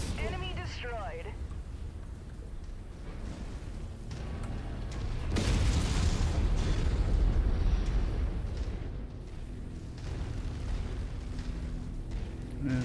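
A heavy, rumbling explosion swells and fades over several seconds as an enemy mech is destroyed in MechWarrior 5, set among ongoing game noise with a spoken voice present.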